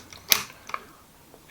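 A Nikon F3 film camera is handled near its film rewind, giving a few sharp, close mechanical clicks and small snaps spaced irregularly over a quiet background.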